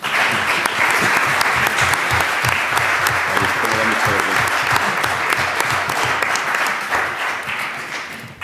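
Sustained, full applause fills the room at the close of a round-table discussion on Palestine, honouring the four panel speakers. It stays even and dense before tapering off at the end.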